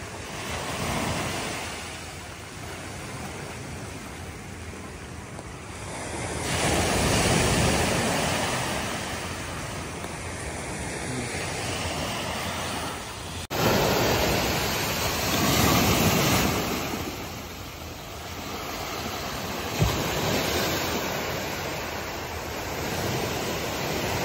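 Sea waves wash against a shoreline seawall during heavy monsoon rain, with continuous roaring surf swelling and receding and strong wind buffeting the microphone, with no voices.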